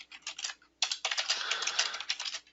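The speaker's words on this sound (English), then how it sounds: "I'm just typing in some answers here." Rapid clicking of typing on a computer keyboard, with bursts of close keystrokes separated by brief pauses and no talk.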